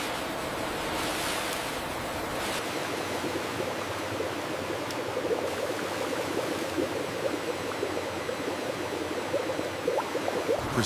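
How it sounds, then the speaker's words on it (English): Vast flumes of chilled water wash freshly harvested spinach in a modern spinach factory, making a steady, dense rush and splash that stays constant throughout, with no voices. "Vast flumes of chilled water gently loosen impurities from the freshly harvested spinach."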